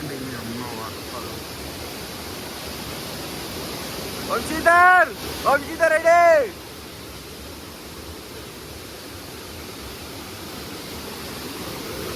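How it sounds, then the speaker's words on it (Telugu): A waterfall on a road trip near Goa makes a steady, broad rushing roar that fills the scene evenly from start to end, while a voice briefly speaks over it in the middle. "ఒకసారి చూడండి అమ్మ వాటర్ ఫాల్."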